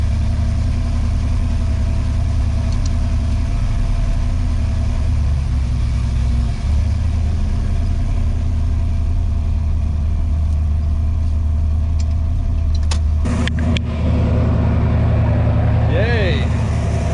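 A car engine idles steadily after a Modern Driveline clutch cable conversion, a continuous low rumble running throughout with a few brief clicks and a voice speaking near the end.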